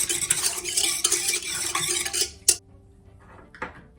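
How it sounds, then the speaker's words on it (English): Yeast mixed into bread ingredients in a bowl, a run of brisk whisk or spoon strokes scraping the bowl, ending with a sharp clink and a quieter tap after a pause, close and clear. "So I'm going to give everything just a mix."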